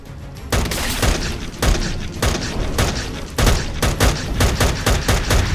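Rapid bursts of gunfire from weapons in modded Minecraft, loud and dense, with repeated sharp volleys and booming shots rolling one after another across the whole stretch, no voices.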